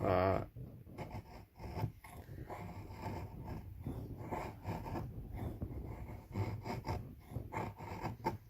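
An Eafengrow EF223 flat-grind knife carves feather sticks from wood, giving close, repeated rasping scrapes in an uneven rhythm that continue throughout.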